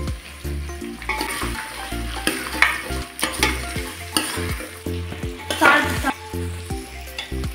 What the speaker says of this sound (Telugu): ఒకసారి పసుపు ఒక్క నిమిషం మిక్స్ చేసుకొని